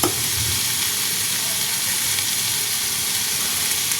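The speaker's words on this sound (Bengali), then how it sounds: "এবার নাড়তে হবে যাতে মাংসটা সেদ্ধ হবে" Chicken mince sizzles loudly in a pan as it is stirred, a dense, even frying hiss holding steady from start to finish, close-up with faint scraping and no speech.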